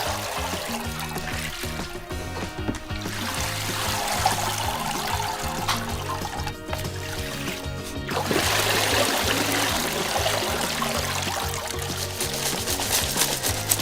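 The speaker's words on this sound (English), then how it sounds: "gave it another proper rinse with a big batch of water" A big batch of water is poured and sloshed while rinsing material in a garage, with a steady trickling and pouring flow that swells louder toward the end.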